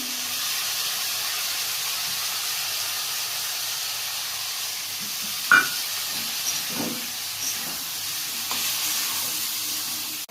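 Ground coriander and ginger spice paste sizzles in a pan for a Bengali pumpkin curry, a loud, constant steamy hiss broken by a few utensil knocks.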